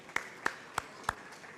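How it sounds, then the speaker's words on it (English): A few scattered, isolated hand claps, about four slow separate claps spaced evenly, faint and sparse rather than a full crowd, at Kampala Impact Day 2023 after a presentation by Rada Shoes. "another round of applause for Rada Shoes"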